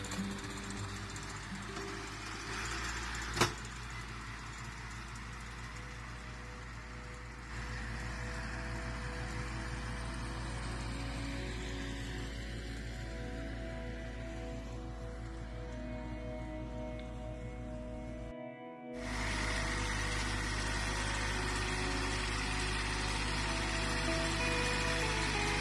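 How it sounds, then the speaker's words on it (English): A small homemade compact bale maker that gathers and bundles wheat, corn or rice straw runs with a steady mechanical drone and rattle, interrupted by a brief cut before continuing evenly. "This miniaturized machine is designed to gather and bundle straw from wheat,"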